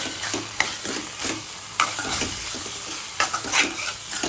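Chole masala is stirred and sautéed in a pan: a soft frying sizzle runs beneath sharp spoon scrapes and clinks against the metal at irregular intervals, close by, with no talking.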